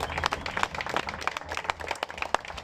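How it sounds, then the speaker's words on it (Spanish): Audience clapping for a contestant at the close of a regional final, fairly faint and steady, a scattered crowd applauding for a couple of seconds. "¡Un aplauso para More!"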